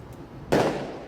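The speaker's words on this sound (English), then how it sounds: "We had freaking fireworks." A single firework explodes outdoors at night, a sudden broadband boom with a rumbling tail, fairly loud and somewhat distant, with no talk.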